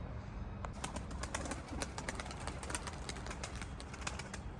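Tumbler pigeons coo softly amid steady outdoor background noise, with occasional faint wing flaps and rustling throughout.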